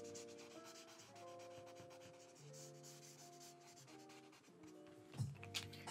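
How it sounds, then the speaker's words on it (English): Pencil shading on paper, drawing pencil-sharpener shavings, makes a faint, soft scratchy rubbing under quiet sustained background tones, ending with a couple of light taps. "let's go ahead and shade these in"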